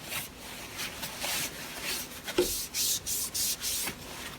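Benchmade Bushcrafter knife drawn across a 4000 grit stone on a Hapstone sharpening system, a run of soft, close scraping strokes in an even rhythm, with no voices.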